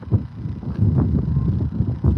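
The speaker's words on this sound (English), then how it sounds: "It's a little windy out here." Steady low wind rumble buffets the microphone outdoors, with gusty swells and no voices.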